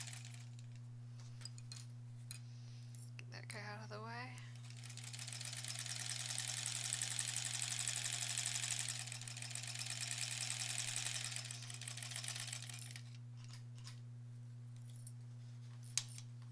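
A sewing machine stitches a lined zipper pouch in a steady, fairly loud run of about eight seconds. A constant low electrical hum sits underneath, with quiet handling sounds before and after.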